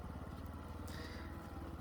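A motorbike engine hums steadily while riding along a narrow path lined with barbed wire, a faint, continuous mid-pitched drone with no speech.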